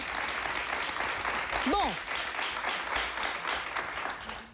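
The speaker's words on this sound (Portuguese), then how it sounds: "Um aplauso." Studio audience on a Portuguese daytime TV talk show applauds steadily throughout, a dense wash of clapping with a voice speaking briefly over it.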